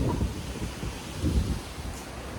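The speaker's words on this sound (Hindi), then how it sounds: "बारिश आ रही हमारे तो जोर की" Heavy rain and gusting wind roar together in a loud, rumbling wash, surging and easing in waves with no voices.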